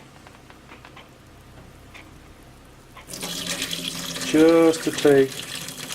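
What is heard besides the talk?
liquid being drained off homestead fodder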